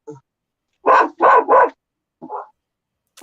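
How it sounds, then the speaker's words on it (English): Dogs bark at home in a quick burst of three loud, close barks, followed by a shorter yip and another bark starting at the end, with silence between. "my dogs are going crazy"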